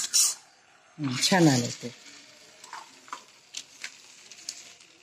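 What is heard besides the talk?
potato kachori piece dropped into hot oil, sizzling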